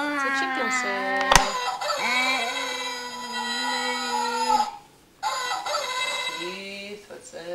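Loud, tonal chicken-like calls with rising and falling pitch repeat close by across most of the stretch, with a short pause near the end; there may be a voice imitating the chicken.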